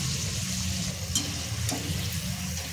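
Chicken samosas deep-fry until crisp in hot oil, a steady close sizzle and bubbling hiss, with a couple of brief clinks as they are turned.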